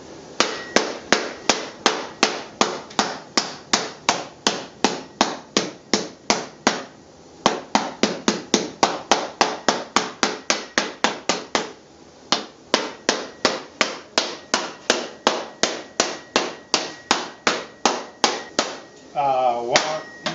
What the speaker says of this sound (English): These are nylon hammers.